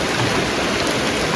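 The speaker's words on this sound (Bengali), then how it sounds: "এরকম বৃষ্টিতে না কাম করেন যায় না, ঘরে থাকুন যায়" Heavy rain pours steadily in a dense, loud, unbroken hiss, close and continuous with no voices over it.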